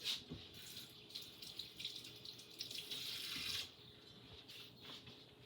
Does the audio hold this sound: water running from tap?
yes